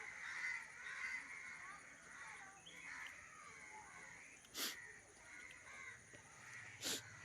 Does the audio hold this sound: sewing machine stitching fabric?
no